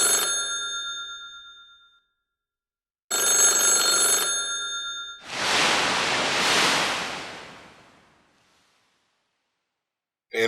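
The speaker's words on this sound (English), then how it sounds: "One is a phone ringing and one is ocean waves" A telephone bell rings in two separate bursts, followed by a swelling rush of ocean waves that fades away; no voices.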